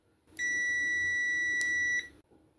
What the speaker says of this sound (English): let's check it with a continuity tester quickly.